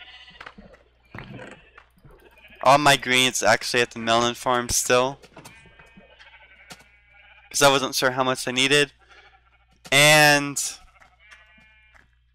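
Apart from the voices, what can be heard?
sheep bleating in pens, from a video game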